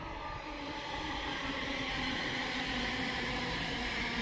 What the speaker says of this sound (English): incoming in now is the Midland Nerd, working a service to Milton Keynes Central